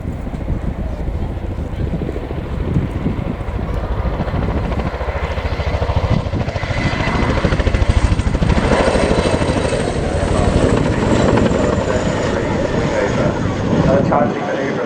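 Boeing CH-47 Chinook tandem-rotor helicopter in flight, a loud, continuous rotor thump and turbine roar mixed with heavy wind buffeting, swelling slightly as it passes close.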